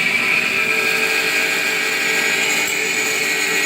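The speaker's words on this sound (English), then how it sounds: "Saw shuts off automatically at the bottom of the cut." A power saw fitted with a coarse blade cuts through material, giving a loud, continuous, steady whine with a gritty edge that holds unbroken from start to finish.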